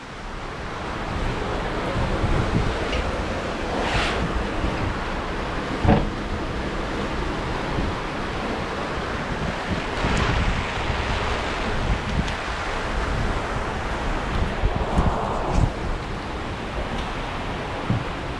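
Strong wind and rough sea on an Atlantic crossing from La Palma, heard as a steady, loud broadband roar with gusting wind buffeting the microphone and waves washing throughout, no voices.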